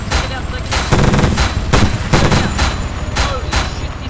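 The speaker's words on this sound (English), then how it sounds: "It's shooting at us, something shooting at us." Loud, rapid bursts of automatic gunfire from an Arma 3 firefight during a helicopter escape on Stratis, sharp repeated reports in quick clusters filling the scene with no talk over it.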